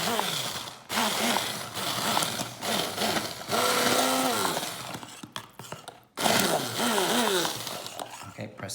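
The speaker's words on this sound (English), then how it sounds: "Noisy while I blitz it." A kitchen blender whirs loudly blitzing pizza sauce, its motor pitch rising and dipping as it runs in bursts, with a brief stop before starting again; voices talk over it.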